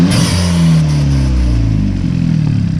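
A 2018 Hyundai Elantra Sport turbo engine with a straight pipe revs up with a hose disconnected, a loud close burst of rising engine roar that holds and settles, with no talking.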